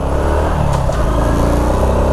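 A Honda RS125 FI motorcycle engine runs loud and close, a steady mid-pitched drone with a brief rise like a rev, heard alone without talk.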